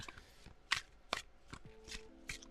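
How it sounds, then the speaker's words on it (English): Tarot cards being shuffled by hand, a series of quiet crisp riffles and taps at irregular intervals, close but faint, with no talking. "Just shuffling,"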